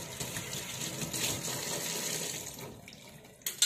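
Tap water runs steadily over apples being washed in a sink, a close continuous splashing gush that thins out near the end before a couple of brief knocks.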